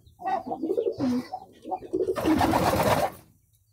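Pigeons coo and call while drinking clean water set out for them, a soft cluster of near bird sounds that swells into a denser flutter of noise toward the end.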